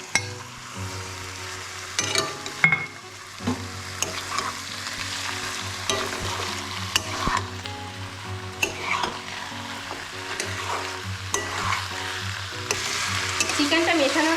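Marinated chicken sizzles in a pan with green chilli and chopped garlic for pepper chicken, under repeated scraping stirs and occasional clinks of a spoon against the pan, close and continuous.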